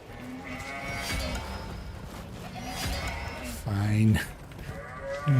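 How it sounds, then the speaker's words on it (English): Sheep and other farm animals call out during sheep herding in the video game Warframe, amid a busy background, with a cow-like moo standing out near the end over ongoing ambient noise. "Oh, are we literally doing sheep herding?"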